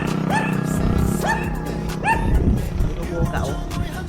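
Dogs bark near a beach, several sharp yelping barks in a loose series, fairly close, with people talking in the background.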